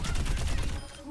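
Rapid automatic fire from D.Va's mech in Overwatch, a dense, loud burst of gunshots running almost continuously before easing off near the end.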